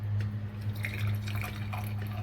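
Cooled herbal leaf water trickles through a strainer into a glass with faint, light dripping and splashing, above a steady low hum.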